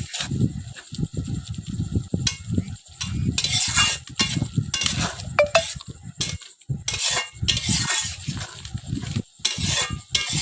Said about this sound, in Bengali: এভাবে নাড়াচাড়া করে ভালোভাবে মিশিয়ে নিতে হবে, হলুদ লবণ যাতে ভালোভাবে মিশে যায়